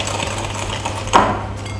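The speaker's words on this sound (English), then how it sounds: "I'm just gonna whisk the egg in the sugar and margarine" An egg being whisked into sugar and margarine in a mixing bowl for ginger biscuits, a steady whirring, scraping churn with a low hum beneath, close by and moderately loud, broken by one brief sharper clack partway through; no voices.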